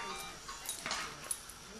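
Pet dogs whimpering and giving small yips close by in a home, soft and intermittent over a noisy room background.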